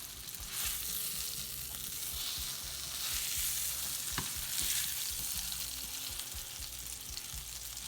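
Beef brisket sizzles and fries in a pan as the base for a chilli, a steady close crackling hiss with occasional pops and stirring, no voices over it.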